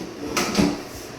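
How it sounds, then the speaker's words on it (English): A soft-close drawer on a bathroom vanity slides shut with a short, muffled glide and a gentle cushioned thud, close and alone. "You've got soft close drawers"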